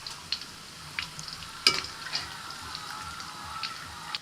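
Sliced onions fry into golden berista for mutton biryani, a steady soft sizzle of hot oil broken by light scraping stirs and occasional clinks of a spoon against the pan.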